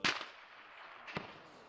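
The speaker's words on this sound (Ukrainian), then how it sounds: "Услід за лайкою починається чергова стрілянина." Two sharp gunshots ring out about a second apart during a close-range firefight on a front line, each a quick crack fading into a lingering echo, fairly faint against a quiet background.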